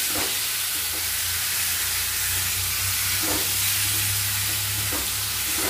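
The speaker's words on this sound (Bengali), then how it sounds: "এবার মাংসটা আমি দিয়ে দিলাম, এবার নাড়তে থাকবো।" Chicken meat frying in a pan, steadily stirred, gives a dense, continuous sizzle with a low steady rumble underneath, close and even throughout.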